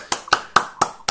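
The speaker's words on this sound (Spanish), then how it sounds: "Esto se merece un aplauso, ¿eh?" Five sharp, evenly spaced claps or hand strikes about a quarter second apart, loud and close, with no voices over them.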